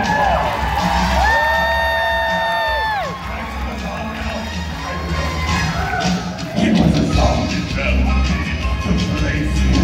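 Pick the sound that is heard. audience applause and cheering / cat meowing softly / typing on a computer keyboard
audience applause and cheering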